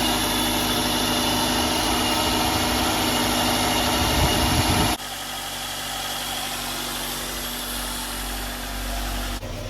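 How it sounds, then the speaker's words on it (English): Three cars idle together on a driveway, one of them a Toyota Celica GT ST202, giving a steady, loud engine drone with low rumbling vibration; the tone shifts partway through as one engine note drops away, with no talking. "we've got all 3 cars running now"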